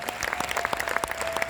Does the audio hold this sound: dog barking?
no